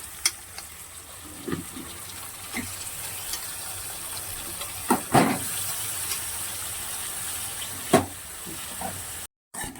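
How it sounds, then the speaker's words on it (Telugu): Bitter gourd pieces, soaked in salt water, hiss and sizzle in hot oil with a watery crackle, punctuated by occasional scrapes and knocks of a spoon against the pan. "ఇప్పుడు నేను కాకరకాయ ముక్కలు ఉప్పు నీటిలో పెట్టుకున్నాను కదా, ఇవి అయితే వేసేస్తాను."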